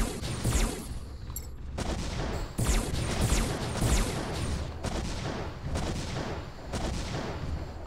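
Repeated heavy rifle shots from a mech in the M.A.S.S Builder game, loud booming blasts in a steady series over several seconds amid a constant rumbling, explosive battle background.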